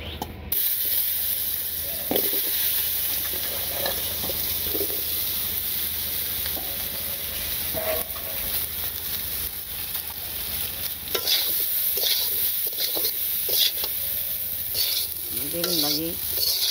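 Eggplant slices for begun bhaji frying and being stirred in a pan in a village kitchen, with a steady broadband sizzle and scattered scraping and clinking of a spatula throughout.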